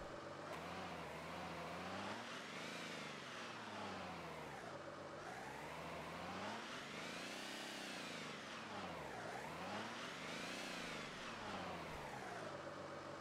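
A fire engine's motor runs in the firefighting simulator Notruf 112, a steady engine drone whose pitch swings up and down in slow waves, as if revving and easing off, with no voices over it.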